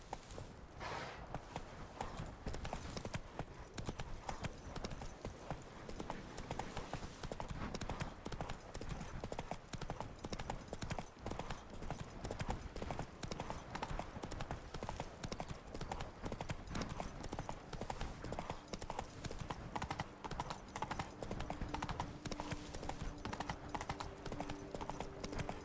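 Roach, the horse in the Witcher 3 game, trots with a dense, steady clip-clop of hooves that runs continuously at a fast even rhythm, fairly close, with a faint voice now and then.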